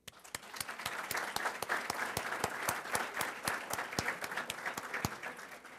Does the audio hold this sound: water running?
no